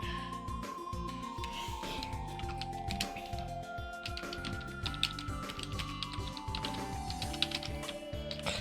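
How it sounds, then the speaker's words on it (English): Rapid computer keyboard typing, a steady run of light clicks and taps, sits under a continuous backdrop of music with sustained tones. "I just keep typing my name in wrong"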